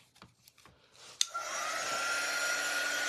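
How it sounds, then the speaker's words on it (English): Heat tool drying paint on wood blows a loud, steady stream of warm air that starts with a click and continues alone after a few faint handling knocks. "Now this is a heat tool and it just blows warm air."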